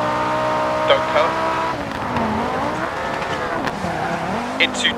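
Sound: Audi quattro rally car engine in DiRT Rally video game

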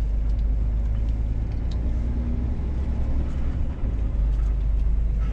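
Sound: Scania S500 truck driving on road

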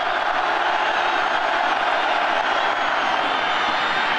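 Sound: stadium crowd of 86,000 cheering for the defense

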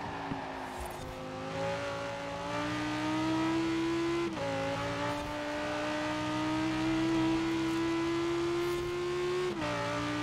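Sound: Italian V10 car engine racing in video game Forza Horizon 4

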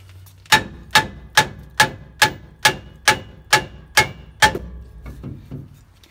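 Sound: hammer tapping on a truck brake rotor

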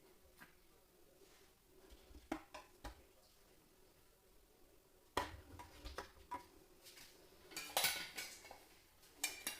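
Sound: glass jars placed into a pot

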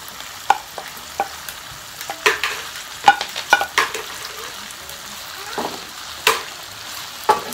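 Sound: ingredients added to pot, frying

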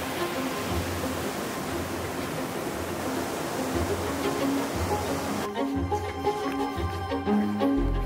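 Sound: waterfall on a hiking trail in Georgia

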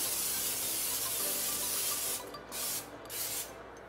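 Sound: spraying olive oil onto chicken

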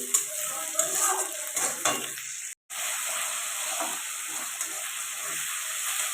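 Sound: onion with ginger garlic paste frying and being stirred

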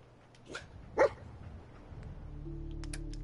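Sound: dog companion Dogmeat barking in video game Fallout 4

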